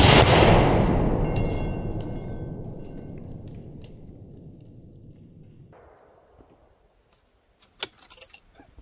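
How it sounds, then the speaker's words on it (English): A .50 BMG spotter tracer round fires with a single huge, close blast that rolls off in a long decaying boom over several seconds, followed by faint clinks and small impacts. "This is a spotter tracer round, and it should mess that thing's day up."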